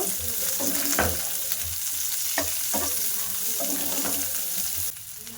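Carrots and capsicum stir-fry in a pan for chowmein, a steady close sizzle broken by several sharp scrapes and stirring clatters, ending in quieter frying.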